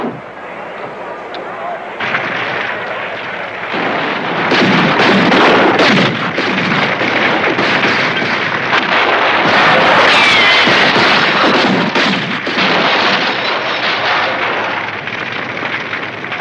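Live ammunition gunfire and explosions in an action scene from the 1977 film Grand Theft Auto, a loud, dense, continuous roar of blasts and shots that fills the whole stretch and masks voices beneath it.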